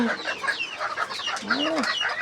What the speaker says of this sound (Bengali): কি তুমি আপেল মুরগি?